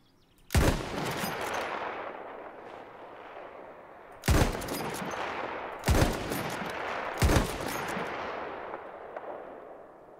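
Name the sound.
gunfire in Battlefield 1 video game, sniper rifles, Monte Grappa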